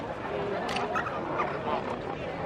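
Flamingo chicks calling in a ringing corral, more than 600 chicks producing a constant dense chorus of chattering, gobbling cries, fairly near and steady, with some voices talking faintly underneath.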